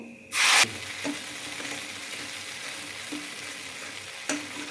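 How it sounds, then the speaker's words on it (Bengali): A sharp burst of sizzling as a ground cashew and melon seed spice paste hits hot oil, then a steady low fry with occasional scraping stirs in the pan, close by. "একটু ভালো করে মশলাটাকে কষিয়ে নেব"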